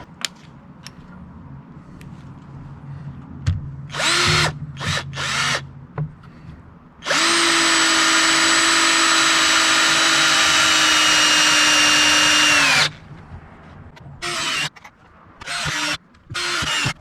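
A power drill drives screws into a deck railing: short bursts, then one long, loud sustained run of about six seconds with a rising whine, followed by more brief spurts.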